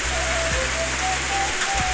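Rain falls during the rainy season, a steady dense hiss of drops on surfaces, continuous and fairly loud, with a low hum underneath and no talk.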